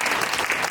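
A cinema audience applauding, a brief burst of many hands clapping densely and evenly at close range.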